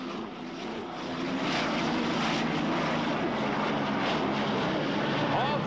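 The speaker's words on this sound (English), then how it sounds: "these boats powered by turbocharged Allison engines" Hydroplane racing boats with turbocharged Allison aircraft engines give a loud, steady roar that drones throughout, swelling slightly after the first second and holding constant.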